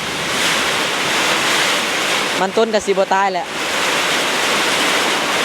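Steady rain pours outdoors with gusting wind in a rural village, a dense unbroken hiss throughout, briefly interrupted in the middle by someone speaking.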